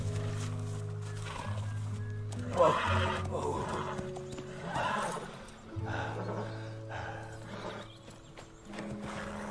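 Horses whinny and neigh several times amid hoof clip-clops, with a low hum underneath and sounds of movement throughout.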